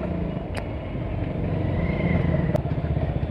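A motorcycle rumbles along steadily on an evening ride, a loose chain adding a rapid clattering rattle under the engine noise, close and continuous with a couple of sharp clicks.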